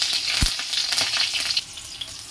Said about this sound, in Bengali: তেলটা গরম হয়ে গেছে, এর মধ্যে দিয়ে দেবো গোটা জিরে আর দিয়ে দেবো কাঁচা লঙ্কা।